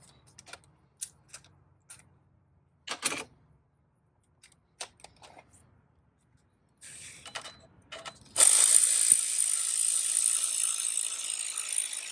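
A ratchet clicks in short bursts while tightening bolts on the idler pulley of a Mercedes BlueTec diesel, the quick pawl clicks coming close and separated by pauses, then a steady loud hiss-like noise takes over near the end.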